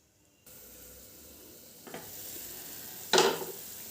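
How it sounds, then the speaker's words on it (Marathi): Khandeshi-style brinjal curry simmers at a boil in a pan, a soft steady bubbling hiss with a couple of brief clinks and one louder burst of sizzle near the end. "मस्त अशी उकळी आली आहे"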